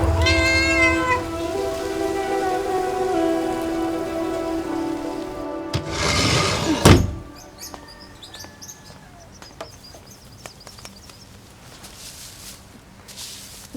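A kitten meows in drawn-out, high cries at the start, followed by a loud crashing burst and then quieter scattered rustles and chirps.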